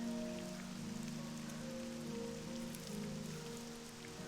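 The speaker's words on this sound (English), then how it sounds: "I wish this rain would stop." Rain falls steadily in the game Morrowind, a soft constant patter under a low droning background, faint and without voices.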